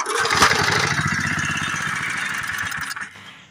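An old Power Kraft rototiller engine that sat for years and has a carburetor in need of work runs loudly with a rapid pulsing chug, then cuts off near the end.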